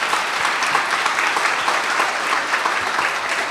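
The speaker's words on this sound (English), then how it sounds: "Can we give a round of applause for our wonderful panelists today?" An audience at a 2014 IIDA career bootcamp applauds its panelists with steady, even clapping that carries at a constant level for the whole stretch, with no talk on top.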